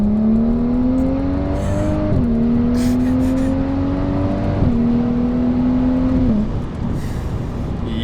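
A tuned 400-horsepower BMW 135i accelerates hard through several gears, its exhaust droning loud and steady with each pull rising in pitch before dropping at the shifts, then easing off at the end.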